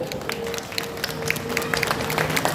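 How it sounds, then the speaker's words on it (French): Audience at a convention Q&A in Le Mans applauds a guest, with scattered claps and crowd noise at moderate distance, fairly faint and steady throughout the short stretch. "On peut l'applaudir s'il vous plaît."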